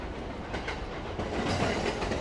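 A rapid train runs past close by near Shin-Osaka station, a continuous rumble with rhythmic clickety-clack of wheels over rail joints that swells slightly toward the end; no speech.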